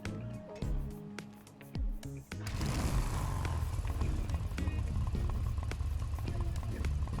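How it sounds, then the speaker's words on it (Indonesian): A standard motorcycle engine starts after some handling noises and then idles in a steady low rumble while it warms up, close by and continuous. "Panasin motor dulu kali ya."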